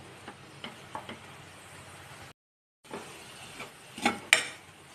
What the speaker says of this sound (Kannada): ಈ ರೀತಿ ಹಿಟ್ಟನ್ನ ಮೀಡಿಯಮ್ ಫ್ಲೇಮಲ್ಲಿ ಇಟ್ಟು ಫ್ರೈ ಮಾಡ್ಬೇಕ್ರಿ